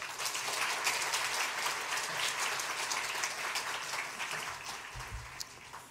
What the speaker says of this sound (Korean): 우리 나오실 때에 뜨거운 박수로 환영하겠습니다.